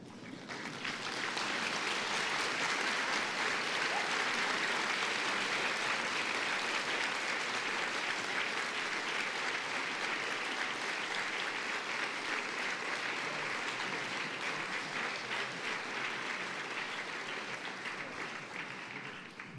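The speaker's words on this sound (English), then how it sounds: "I now invite the graduates to stand and to applaud your families and all who have helped you" Standing graduates at a Goldsmiths presentation ceremony applaud their families, producing sustained, dense hall-filling applause from a large crowd that holds steady for nearly twenty seconds and tapers only slightly at the end.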